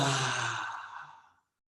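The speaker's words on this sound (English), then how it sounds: "Push everything out of your lungs." A forceful, breathy exhale during a power vinyasa breathing exercise, pushed out hard at the start and tapering over about a second before stopping into silence.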